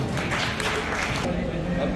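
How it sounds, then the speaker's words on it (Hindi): An audience at a school award ceremony in Kakrala, India, applauds students being honoured, giving a thick, steady wash of clapping that thins somewhat toward the end. "मेरा जोरदार तालियां बजा इन बच्चों के लिए।"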